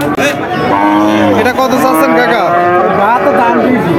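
A cow moos loudly and close by at a village cattle market, one long drawn-out bellow with rising and falling pitch that fills the whole moment, faint crowd noise beneath.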